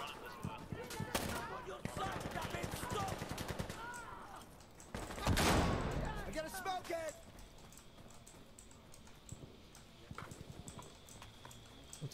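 Gunfire in a shooter video game, clusters of quick, crackling shots coming through faintly amid scattered clicks, with people talking over it and a louder boom-like burst partway through.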